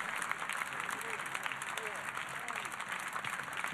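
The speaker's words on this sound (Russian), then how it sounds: "Зал не устает аплодировать этой паре." An audience at a Dancing with the Stars Ukraine ballroom show applauds a dance couple, a dense, continuous wash of clapping that fills the hall with faint whoops mixed in.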